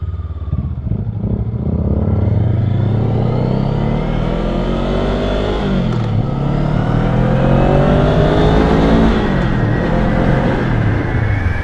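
A 2023 Honda Rebel 500 motorcycle engine drones loud and close while riding, its pitch climbing through gears and dipping at shifts, with rushing wind throughout.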